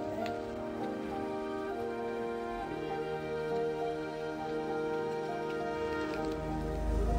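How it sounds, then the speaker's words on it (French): Steady rain falls in Annecy, a soft continuous patter throughout at moderate level, with no one speaking and a low rumble rising at the very end. "Voilà, il pleut."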